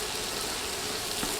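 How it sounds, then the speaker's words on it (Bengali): Dal stirred and frying in hot oil with spices, a steady dense sizzle and crackle throughout, close and even in level with no talk over it. "এখন নেড়ে নেড়ে তেল মশলায় সব কিছু ভেজে নিব।"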